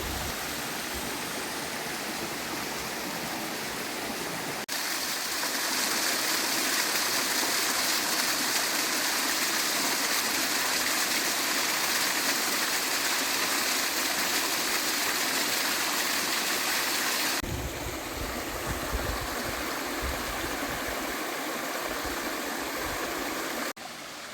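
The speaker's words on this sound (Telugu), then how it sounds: "మరి ఎలా ఉందండి మన కొళ్ళబైల్ వాటర్ ఫాల్స్ అయితే" Kollabailu waterfalls near Madanapalle roar steadily and loudly, a dense continuous rush of falling water that holds unbroken throughout, with a slight shift in tone partway through and no voices.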